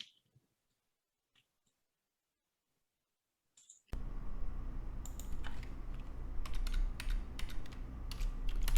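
Rapid keyboard typing, close and steady, begins after a few seconds of near silence and continues with clustered clicking keystrokes.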